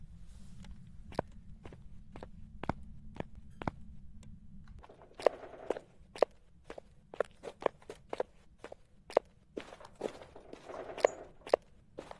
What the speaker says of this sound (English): I'll wait for it to hunt. I'll listen to where its footsteps are.